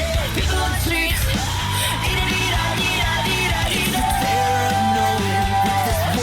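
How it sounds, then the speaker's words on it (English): Background screams and yells ring out in a dense rock cover, set under loud full-band music with sustained vocals and drums. "I love that we get these background screams as well."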